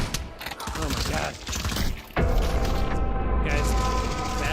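A battle cannon fires in the VR shooter Pavlov, a loud booming blast that swells into sustained rumbling gunfire, with a quieter stretch of mechanical clatter before it.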